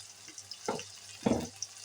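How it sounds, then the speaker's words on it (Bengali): Ginger garlic paste frying in hot oil, with two short bursts of sizzling and stirring against a quiet low hum. "আদা রসুনটা ভালো করে তেলের মধ্যে ভেজে নিলাম।"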